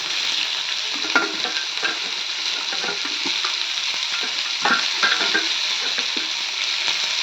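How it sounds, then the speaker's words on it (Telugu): Onions fry in a pan with a steady, fairly loud sizzle, while a utensil scrapes and stirs at irregular moments throughout. "ఈ ఆనియన్స్ కూడా బాగా వేగాలి."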